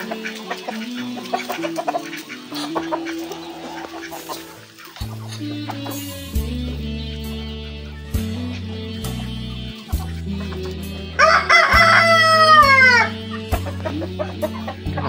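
Black Australorp hens cluck steadily close by, and partway through a rooster lets out a loud, drawn-out crow, with a low steady hum underneath.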